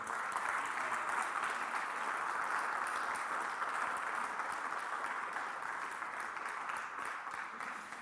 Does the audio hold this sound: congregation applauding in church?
yes